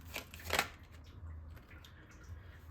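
Tarot cards are shuffled and drawn in a quiet room: two brisk riffling bursts near the start, then soft faint card rustling.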